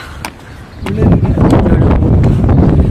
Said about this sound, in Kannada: ತುಂಬ ಕೂಲ್ ಆಗಿದೆ ಈಗ, ಚಳಿ ಗಾಳಿ ಬೀಸ್ತಾ ಉಂಟು.